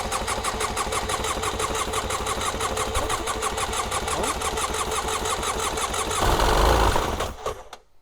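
A cheap jet ski with a suspected fuel or carburetor problem cranks and idles with a rapid, even mechanical chugging, then revs briefly louder before cutting out, close and alone with no talking.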